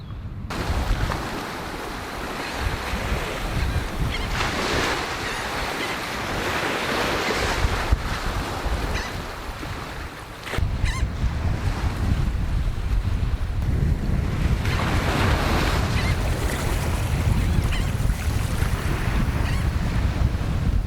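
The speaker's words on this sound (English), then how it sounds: "enjoy the sound of the waves and the smell of the sea" Waves break and wash up on a beach at Fisherrow, Musselburgh, Scotland, in repeated surges, with steady wind rushing across the microphone and no voices.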